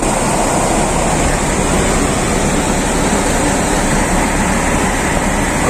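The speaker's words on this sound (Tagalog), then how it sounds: "Ang lakas ng agos." Strong current of floodwater after a typhoon in Oriental Mindoro, a loud continuous roaring rush of churning water, steady and close throughout with no voices over it.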